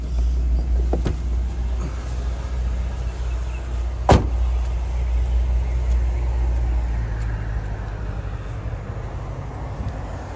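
Top of a 2007 Mercedes-Benz SL550 convertible lowering, a steady motor hum with low rumble running throughout, one sharp click or clunk partway through, no talking.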